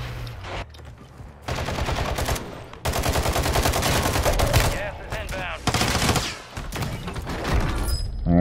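Gunfire in a Call of Duty match, sounding as loud, dense bursts of rapid shots separated by short gaps, close and harsh, with background game effects between volleys.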